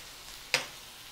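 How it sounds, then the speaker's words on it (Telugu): A steady low frying hiss from potato curry (aloo pulusu) in a pan as turmeric is stirred in, broken by one short, sharp scrape of the spoon midway. "పసుపు వేసుకొని బాగా కలియబెట్టండి"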